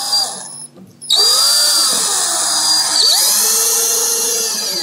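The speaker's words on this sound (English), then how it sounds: "particularly with a powered screwdriver, is just to put the screw there" A powered screwdriver whines loudly and steadily for several seconds after a brief start, close up with no talk, while building a wooden theatre scenery flat.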